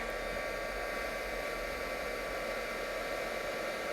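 A heat tool blows steadily throughout, a constant close-up whooshing hiss of hot air melting detail embossing powder on a stamped card, with no pauses or talk.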